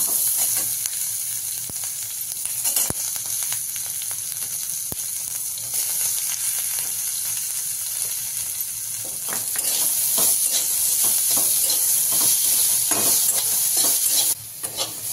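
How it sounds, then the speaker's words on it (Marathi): Chopped vegetables stir-fried briefly in a pan on a gas stove as a topping for tawa pizza, a steady close sizzle and hiss with repeated scraping stirs throughout, no voices. "जास्त ओव्हर कुक करायचं नाही, थोडेसे फ्राय करून घ्यायचे।"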